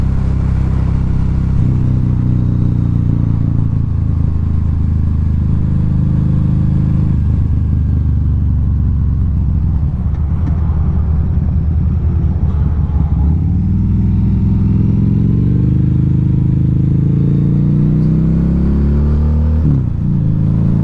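A 2012 Harley-Davidson V-Rod Muscle on the move, with a steady, loud, low engine drone and rumble underneath heavy wind buffeting, the pitch sliding up and down with the throttle and no one speaking.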